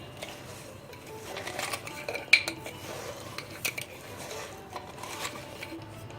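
Spoon clinking and scraping in a bowl as black salt, garam masala and deggi chili are stirred into sweet lemon pickle, with soft irregular taps and scrapes, fairly quiet and close, no talk.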